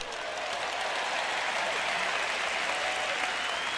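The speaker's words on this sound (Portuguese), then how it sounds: "Bom, eu tenho 3 pessoas batendo palmas para isso." Broad, continuous applause from a large church audience during a sermon, an even wash of clapping at a steady level with no talk over it.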